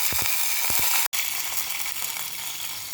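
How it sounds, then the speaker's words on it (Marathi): Water poured into a hot sizzling tempering of sesame seeds, curry leaves and green chilli for rava dhokla, giving a steady loud hiss with a brief break partway, alone with no talk. "इथे अर्धा ते पाऊण कप मी पाणी घातलेलं आहे"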